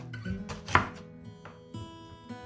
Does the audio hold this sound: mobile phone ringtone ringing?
no